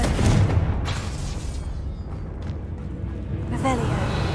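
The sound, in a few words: Confringo spell blast in the video game Hogwarts Legacy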